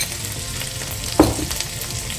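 Chopped garlic and ginger fry in hot oil in a pan with a steady close sizzle. A single louder scrape or stir comes partway through.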